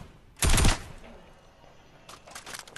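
A gun fires in Fortnite in a short, loud rapid burst, followed after a pause by a second, quieter spatter of shots.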